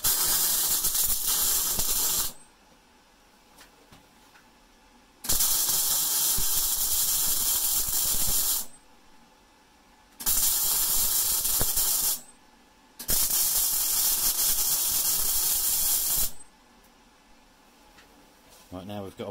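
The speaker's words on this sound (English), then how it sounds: "now I'm going to weld it up properly with this bad boy" Welding a gear cog onto a wind turbine drive shaft: loud, steady electric-arc hissing and crackling comes in four long bursts, separated by quiet pauses.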